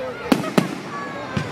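Bonfire Night fireworks display at a Nottingham recreation ground: two sharp bangs close together followed by a softer third burst, with voices chatting in the background.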